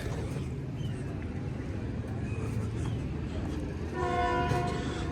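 A train horn sounds near the end as a train begins to pull out of a village station on a clear winter morning, rising over a steady low rumble of rolling stock.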